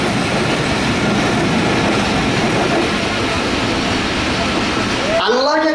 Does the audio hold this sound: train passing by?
yes